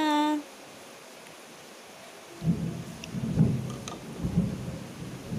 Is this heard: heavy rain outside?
yes